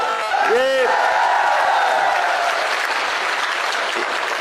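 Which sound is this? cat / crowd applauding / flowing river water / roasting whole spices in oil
crowd applauding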